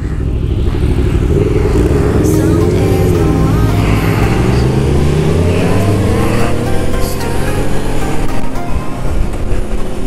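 Motorcycles from a group ride that includes a Honda CBR 1000 F, an Aprilia and a Suzuki GSXR 1000 accelerate loudly and continuously, the engine pitch climbing and sweeping through gears under heavy wind rush.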